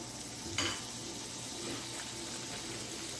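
Butter sizzling in a hot breakfast skillet, a steady soft frying hiss with a brief louder crackle near the start, close and continuous with no talking.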